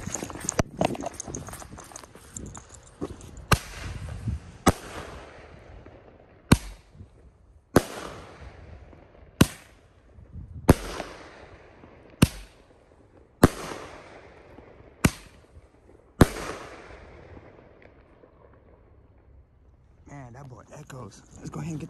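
A short FMJ firework candle fires outdoors, sending about a dozen sharp cracking shots at uneven intervals of one to two seconds. Fizzing and crackling run between the bursts, and voices can be heard in the background.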